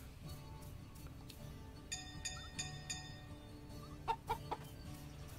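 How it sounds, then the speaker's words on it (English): A chicken in the farming video game Story of Seasons: Pioneers of Olive Town clucks in short bursts, mixed with bright chiming clinks and soft background game ambience. "let's let the chicken out"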